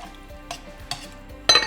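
Olives and fresh chopped cilantro being stirred into a Moroccan chicken braise in a pan, with a few soft scraping strokes and a louder, brighter scrape near the end, close and without talk.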